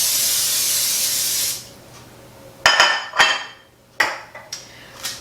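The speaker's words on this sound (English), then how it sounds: "I always spray my pan" A cooking-spray can hisses steadily over a pie pan for about a second and a half, followed by a few close clinks and knocks of the metal pan.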